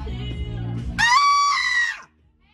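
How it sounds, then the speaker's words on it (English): A person in a store lets out a loud, shrill scream lasting about a second, following a brief stretch of murmuring voices, then it cuts off abruptly into near silence. "that doesn't mean you can just scream in our store"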